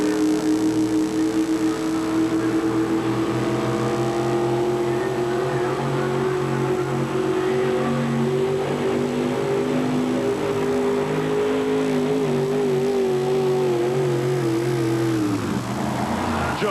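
A 1951 Chevrolet pulling truck with a Pontiac engine at a four-wheel-drive truck pull, roaring at a steady high rev with slight pitch wavers for about fifteen seconds before dropping off abruptly.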